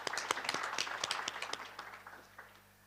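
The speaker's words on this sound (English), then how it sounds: "So let's applaud to all of us who are here." Scattered clapping from a forum audience at a democracy forum in Armenia, sharp individual claps close by that thin out and fade toward the end.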